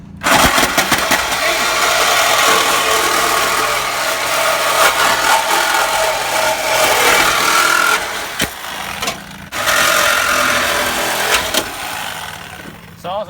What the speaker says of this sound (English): Sawzall eats.